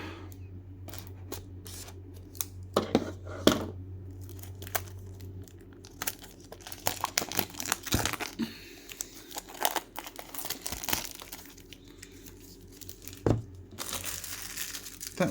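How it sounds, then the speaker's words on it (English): Scissors snip and slice through plastic shrink wrap on a DianSheng magnetic puzzle box, with crinkling plastic and scattered crunchy rustles, close and fairly quiet, with no voices. "Gonna cut through this plastic wrap."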